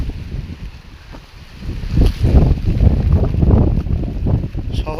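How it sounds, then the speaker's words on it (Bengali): Powerful wind blows through a Bengal village near almond trees under cloudy pre-rain skies, roaring against the microphone in heavy, gusting bursts that build louder midway and stay strong. "ও, হাওয়ার কি বেগ!"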